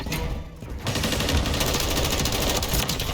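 Automatic gunfire in Call of Duty: Modern Warfare III, from a custom-built DTI7 rifle, a steady dense stream of rapid shots filling the whole stretch, loud and continuous.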